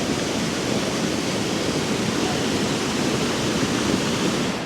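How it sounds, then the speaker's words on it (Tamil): Rainwater rushes fast through flooded ground in Vavuniya, Sri Lanka, making a loud, unbroken roar of water heard up close with no other sounds. "கொஞ்சம் பாருங்களேன் எப்படி இருக்குன்னு இந்த தண்ணி பாயிறது"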